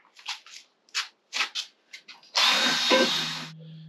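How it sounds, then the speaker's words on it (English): A wire wheel scrubs a metal shaft clean during a rebuild. Several short scratchy touches come first, then one loud, steady grinding pass of about a second that stops abruptly and leaves a low hum. "I'll go ahead and wire wheel this up a little bit so I can get it ready to go."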